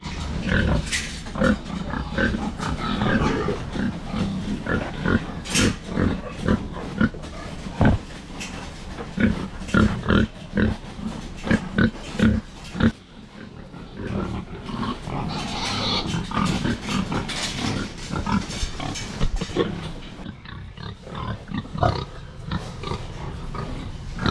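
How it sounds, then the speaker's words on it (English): Pigs crowd a completely full barn, grunting and oinking in a steady jumble with frequent sharp squeals and thumps, close and fairly loud throughout with no talking. "So we got big pigs now, and the barn is as full as it gets"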